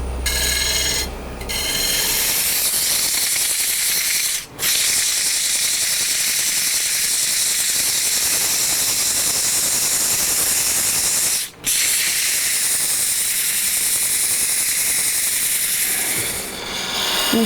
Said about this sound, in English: right now I'm using my bowl gouge to hollow this out